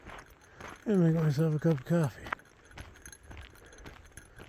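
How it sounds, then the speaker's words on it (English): A bear bell carried on a long-distance hike rattles and jingles faintly and continuously in the background, close by, while someone speaks over it. "the rattling noise you hear is I found a bear bell."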